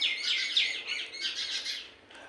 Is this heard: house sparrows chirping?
yes